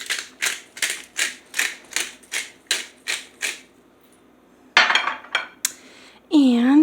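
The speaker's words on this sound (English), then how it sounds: "And then I'm going to use my pepper grinder." A hand pepper grinder is cranked over a buttermilk chicken marinade, giving about ten quick, evenly spaced ratcheting clicks up close. A pause follows, then a brief clatter and a short voice.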